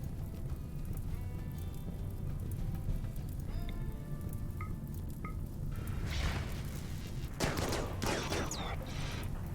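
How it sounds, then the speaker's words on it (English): Gunfire in the colony game RimWorld during a fight with many small enemies, a dense crackling fusillade of rapid shots under a steady background bed, with a few short sharper bursts and tonal blips, no talk. "Shooting at me."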